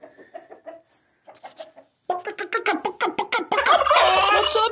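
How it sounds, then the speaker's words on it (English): A Narragansett turkey gobbles in a rapid, loud burst, with softer fowl clucking before it in a backyard flock. "Sergeant Major talking to us this morning. Look at his strut lines. He's a Narragansett"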